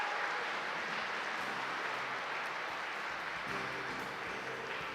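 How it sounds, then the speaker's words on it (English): Applause from the audience at a live gaming festival event fills the space as a steady, dense wash of clapping with no talk over it. "give them all a round of applause."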